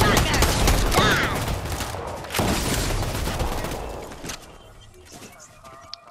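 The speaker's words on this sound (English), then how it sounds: "Shotgun!" Shotgun blasts and a rapid burst of gunfire in a video game, loud and dense at first, then fading into quieter game noise near the end.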